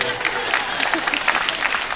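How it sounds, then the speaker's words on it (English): A small audience gives scattered, fairly quiet applause with a few distinct claps and some crowd murmur, brief and a little distant. "There's a little bit of applause there"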